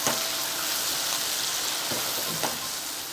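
Potato manchurian sauce with vinegar, salt and pepper is stirred in a frying pan over medium flame. It gives a steady, dense sizzle with a few soft scraping strokes of the spoon. No one is talking.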